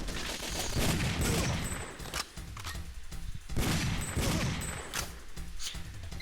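Rapid bursts of enemy gunfire crackle in the 1995 Namco arcade shooter Time Crisis, loud and dense, in two or three waves with brief lulls between, with no talk.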